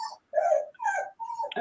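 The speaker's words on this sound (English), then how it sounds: "That's my dog who wants to get out." A dog whines and whimpers in a few short, tonal bursts close by indoors, eager to be let out, with small yips between the cries.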